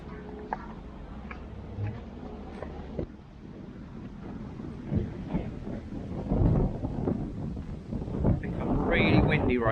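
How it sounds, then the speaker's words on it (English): Strong wind buffets a microphone outdoors on a walk near wetlands, a loud continuous low rumble with gusts swelling and fading, growing stronger toward the end. "Really windy right now."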